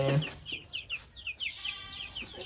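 A sick farm chicken with swelling eyes clucks close by in a quick series of short, bright calls, fairly quiet with little else around.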